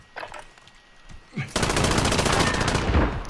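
Video game gunfire: a few faint pops, then a loud, sustained rapid-fire automatic burst that rattles on for nearly two seconds up close.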